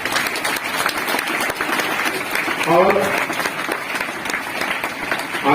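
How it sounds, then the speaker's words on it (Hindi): A hall audience at a coaching institute event claps loudly and continuously, a dense, steady applause with a brief voice rising over it midway. "उनके लिए जोरदार ताली हो जाइए"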